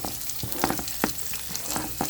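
Carrot, cabbage and capsicum being stir-fried for fried rice, a continuous close sizzle broken by regular scraping clacks of a spatula stirring the pan, with no voices.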